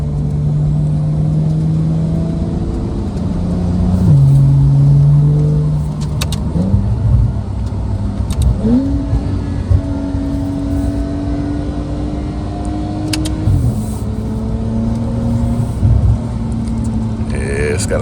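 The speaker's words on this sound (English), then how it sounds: "listen to this exhaust." Exhaust of a custom-built Porsche 911 driving in Sport Plus mode, a steady loud engine drone with rising and falling pitch through gear changes, a voice talking over it at times.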